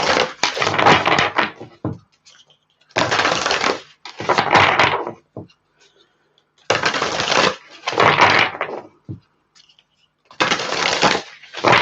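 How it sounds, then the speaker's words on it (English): A deck of playing cards being shuffled by hand in several separate bursts, each a crisp riffling flutter lasting about a second or two, close and fairly loud, with short pauses between them. "Let me shuffle this a bit more."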